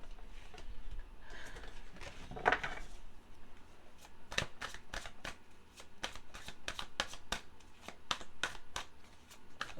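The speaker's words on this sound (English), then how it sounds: "I've already shuffled the cards, but I'll shuffle them some more on camera." Cards are riffled and shuffled close by, a brief flurry followed by a run of sharp, rhythmic snapping taps.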